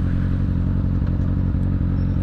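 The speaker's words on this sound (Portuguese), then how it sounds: "Tem que aprender a reduzir a marcha no motor" Motorcycle engine droning steadily as the rider downshifts gears on a ride, a loud close rumbling hum with light mechanical clatter and no speech.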